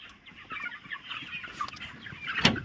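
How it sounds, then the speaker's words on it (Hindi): Chickens cluck and chatter together at a poultry farm, a dense, steady murmur of birds close by with one louder squawk near the end. "मुर्गी फार्म जैसा आप देख रहे हैं कि हमारे सामने पीछे कि मुर्गी फार्म है"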